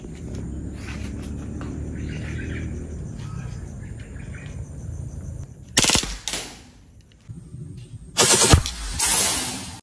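A WE IREX 6.0 airsoft gun fires in full auto mode at a balloon 15 meters away, with two sharp loud bursts late in the clip over outdoor ambience with chirping birds.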